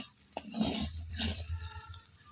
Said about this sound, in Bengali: নামিয়ে নেব আর একটু ভাজা ভাজা করবো তাহলে সুন্দর হয়ে যাবে